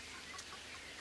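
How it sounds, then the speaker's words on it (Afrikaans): Chickens cluck softly in a brief, faint burst of a few short calls over low background noise. "Hoenders, snaakse goed"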